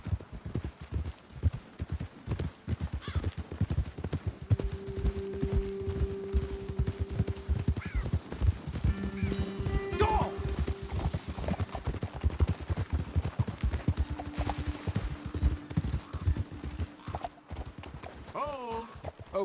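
Horses ridden across rough ground in Red Dead Redemption 2, with steady clip-clop hoofbeats throughout, occasional whinnies, and characters talking over the riding.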